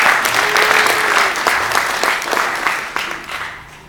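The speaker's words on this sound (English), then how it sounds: "Please give a round of applause." An audience gives a round of applause at a research presentation on global millennials, steady dense clapping that fills the room and gradually thins toward the end.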